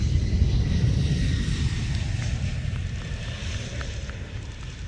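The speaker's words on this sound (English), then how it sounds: "But what a debut for RIAT 2024 in the hands of Matt Giese and Michael Quintini from Boeing, the F-15 QA" A Boeing F-15 QA jet at the RIAT 2024 air show gives a loud, continuous low roar with wind buffeting, easing slightly toward the end, and no voices over it.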